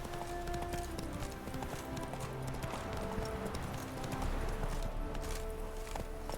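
Hooves of the horse Roach in The Witcher 3 clip-clop in a quick, continuous galloping rhythm, close and steady, with game ambience underneath and no talk.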